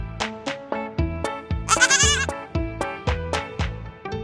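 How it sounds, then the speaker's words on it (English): A farm animal toy sounds a quick, wavering goat bleat in the middle of a bright, looping jingle, close and fairly loud. "Goat."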